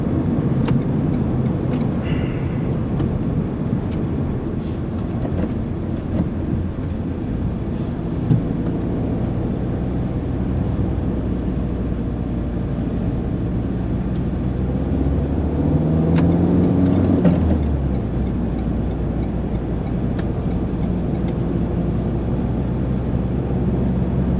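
A 2021 Renault Megane 4 Estate with the 1.5 Blue dCi 115 diesel drives onto a fairly fast road, giving a steady low cabin drone of engine and road noise that swells briefly, with no talking.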